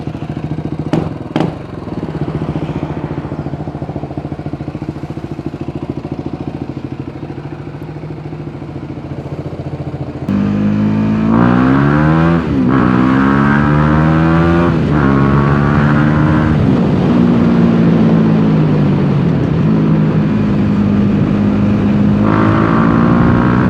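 A BMW G 310 GS motorcycle on a test ride in Bali, Indonesia, with a steady engine drone that jumps much louder midway into a strong, sustained roar rising and falling in pitch as it accelerates, close and loud, no talk.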